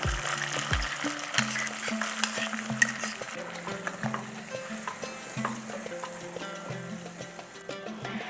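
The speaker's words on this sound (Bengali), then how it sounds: "এরপর এখানে দিয়ে দেব টক দইয়ের মিশ্রণ।" Sour yogurt mixture goes into a hot pan of fried ginger, raising a steady busy sizzle and frying crackle with soft stirring and liquid sounds, close and continuous, with no talk.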